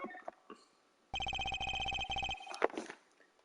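A telephone bell rings in a single sustained electronic trill lasting about a second, loud and close, framed by quieter game sound effects.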